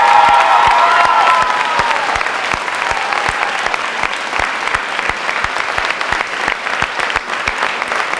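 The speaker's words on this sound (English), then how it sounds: "How about a huge round of applause for Kyla Pothier and Ashley Lefebvre." A senior banquet crowd gives loud applause with some cheering, strongest at the start with a few shouts, then settling into steady clapping with distinct individual claps standing out.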